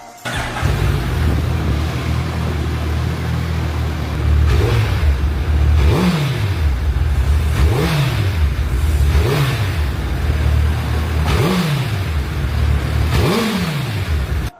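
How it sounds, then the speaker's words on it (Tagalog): A 2022 Suzuki Hayabusa 1,340cc motorcycle on its stock exhaust idles with a deep rumble, then gets revved in a series of short throttle blips about every second or two, loud and close. "bago natin ito i-soundcheck, pakinggan muna natin ang stock pipe nito"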